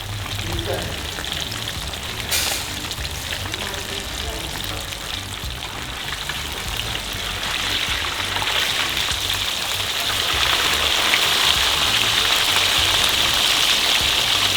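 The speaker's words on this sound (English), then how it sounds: "So first, fry the fish." Fish frying in oil for Jamaican coconut curry at a street food stall: a steady, dense sizzle that swells louder toward the end, with a brief sharp clatter near the start and faint talk beneath.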